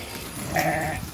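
A newborn lamb bleats in a short wavering cry on a village farm, close and fairly loud over steady background noise.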